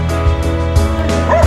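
Dog barking at a stray dog shelter in Umm Al Quwain, three loud close woofs spaced about half a second apart, with a short whine or yelp between them over a steady background drone.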